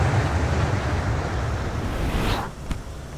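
Wind rushing loudly and steadily into a Carenado Caravan's cabin through the open door in the FSX simulator on a very windy day, broadband and roaring throughout, then suddenly cutting off near the end with a brief click.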